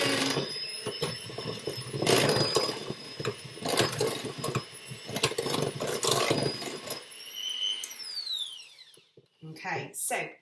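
An electric mixer whirs steadily while combining gluten-free cake batter, a continuous motor whine with scraping and knocking against the bowl, under someone talking, then cutting off near the end.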